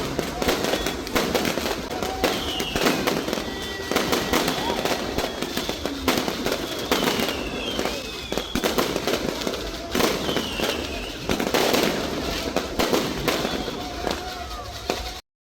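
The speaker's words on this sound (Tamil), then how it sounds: "இந்த பட்டாசு வெடிக்கிறதெல்லாம் வந்து பார்க்குறதுக்கு வந்து ரொம்ப பிடிக்குமா" Deepavali fireworks and firecrackers in Little India, Malaysia, crackle and burst continuously in a dense, loud barrage, with whistling rockets rising through it and some voices underneath.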